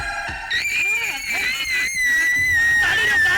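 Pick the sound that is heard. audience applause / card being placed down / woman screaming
woman screaming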